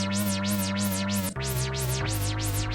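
A Dreadbox Nymphes polyphonic synthesizer plays randomly generated tones that sweep up and down in a repeating pattern over buzzy, sustained pitches that shift abruptly, with no voices.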